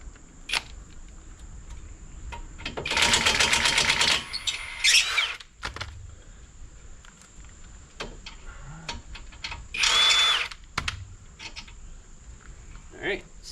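A power tool unbolting a car's lower ball joint during axle replacement: two loud bursts of rattling impact-gun hammering, separated by quiet clicks and small metallic knocks, with a steady high whine beneath.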